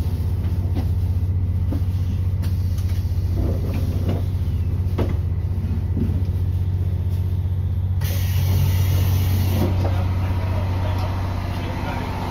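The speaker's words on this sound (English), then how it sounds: "The train has arrived in Engaru Station." Limited express Okhotsk train pulling into Engaru Station, Hokkaido, in winter, heard from inside the carriage as a steady low rumble and hum with faint clunks, rising slightly near the end.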